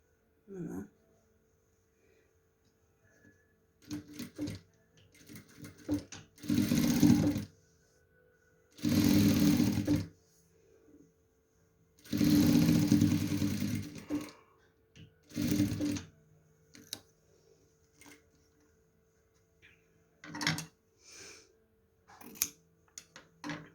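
A sewing machine stitching two ribbons together runs in several short bursts of rapid mechanical whirring, separated by pauses, with faint handling clicks between runs.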